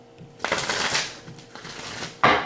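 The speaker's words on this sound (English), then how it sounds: "Let me give it one more shuffle." Tarot card deck being shuffled by hand close up, several crisp riffling bursts separated by brief pauses, ending with a sharp final snap of cards, with no talking.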